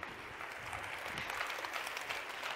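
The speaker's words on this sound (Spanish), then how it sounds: "Pido un fuerte aplauso" Audience applause at a university library's 25th-anniversary science festival, a steady, moderately distant patter of many hands clapping for the whole stretch without a break.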